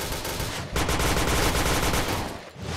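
Automatic gunfire in the online shooter game Point Blank fires during a jump shot as a dense, loud, unbroken rattle of rapid shots, with a brief dip and then resumed firing near the end, and no voices.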